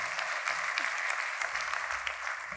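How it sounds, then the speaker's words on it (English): Clapping and cheering from a conference audience welcoming a keynote speaker, a steady wash of applause at moderate level with no clear voices on top. "Ladies and gentlemen, please scream, yell, clap so she can hear you."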